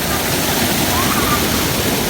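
A waterfall roars steadily from very close, a dense, loud, unbroken rush of falling water that fills the whole moment.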